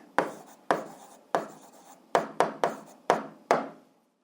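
Pen or chalk writing a number while working a math problem, about nine sharp separate strokes in a fast uneven rhythm, close and clear with nothing else heard.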